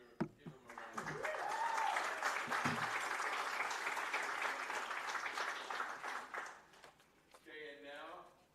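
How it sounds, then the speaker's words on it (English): Guests at a university sports awards ceremony applaud the award recipients, a swell of crowd clapping that rises quickly and holds, then thins out, with a voice over loudspeaker talking at the start and end. "Please give them a round of applause."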